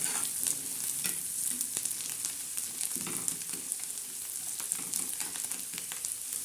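Onions sizzle steadily in a pan after salt is added, a constant bright crackling fry with occasional stirring scrapes, close and unaccompanied by talk.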